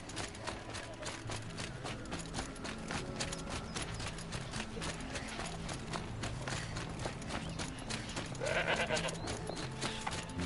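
A goat in the video game Horizon Zero Dawn gives one short bleat near the end, faint against a busy bed of game ambience and footsteps.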